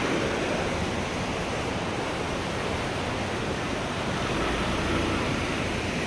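River water rushes beneath the old British-era Jokadia bridge in Jajpur, Odisha, making a dense, even roar of flowing water that stays constant and fairly distant throughout, with no voices.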